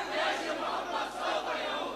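A large crowd chants a religious-political slogan at a Pakistani religious gathering, rhythmic swelling waves of many voices shouting in unison, loud and continuous.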